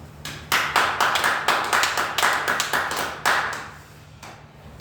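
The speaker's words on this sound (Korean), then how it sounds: "우리 하나님께 감사의 박수를 한번 보내드리겠습니다" A church congregation claps, a burst of individual hand claps at an uneven rhythm that swells briefly and then thins out, close and moderately loud, with no voices over it.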